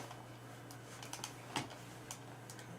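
Faint, sparse clicks of keys being tapped on a computer keyboard, a few irregular strokes with one slightly sharper hit, over a low steady electrical hum in a quiet room.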